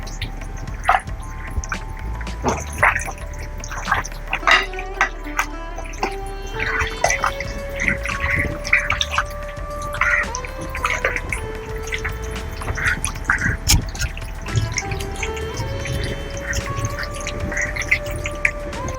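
Mutton pieces squished and kneaded by hand with salt, chili powder and mustard oil, giving steady wet squelching and dripping close by, with a tonal background running underneath throughout.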